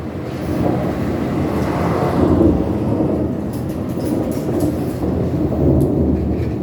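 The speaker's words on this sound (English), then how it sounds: "you can hear the thunder." Deep, continuous rumbling fills the whole stretch, swelling slightly in the middle like rolling thunder, with no voices.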